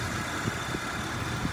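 A 2009 Chevrolet Malibu LS with a 3.5 liter V6 and 74,000 miles idles steadily after running a while, a low even engine hum heard close and alone.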